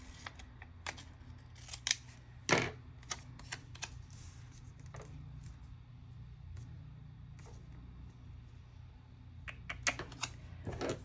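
Crisp scissor snips cut through sticker sheets in short separate bursts, with a few sharper louder clips among lighter cuts, close by and without talk over a steady low room hum.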